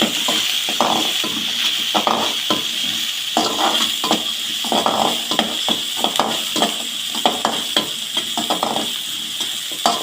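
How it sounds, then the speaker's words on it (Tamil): Chopped onions sautéing in hot oil in a pan, a steady loud sizzle broken by repeated spatula scrapes and stirs, close up and with no talk. "வெங்காயத்தை போட்டு நல்லா வதக்கலாம்."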